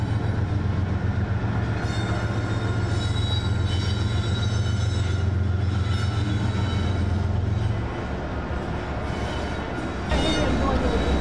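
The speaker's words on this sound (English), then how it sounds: "CSX backs into the mill while NS45R in the background pulls out of their mill" A CSX freight train backs slowly into a grain mill, with a steady low rumble, squealing wheels and rolling cars, while a second Norfolk Southern train pulls out of its mill in the background.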